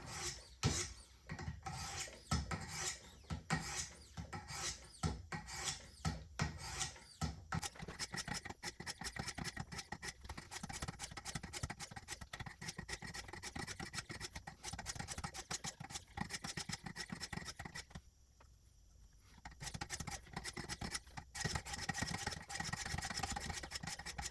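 Steady rasping strokes of a Schrade LB7 folding knife blade drawn across a 600 grit sharpening stone, continuous close scraping with a brief quieter pause near the end.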